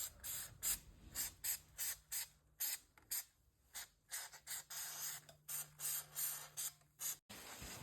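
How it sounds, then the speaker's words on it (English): Copper anti-seize sprayed from an aerosol can onto front brake parts of a 2013 Kia Soul: a rapid series of short, sharp hissing bursts in an even rhythm, loud and close, with quiet gaps between them. "we are going to spray on some copper anti-seize."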